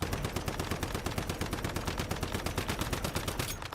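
Sustained automatic gunfire in Once Human, rapid evenly spaced shots hammering close and loud without a break for nearly four seconds.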